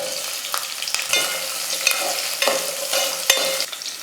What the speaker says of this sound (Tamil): பூண்டு மிளகாய் வந்து கொஞ்சம் நல்லா எண்ணெயில் வந்து நல்லா வதங்கட்டும்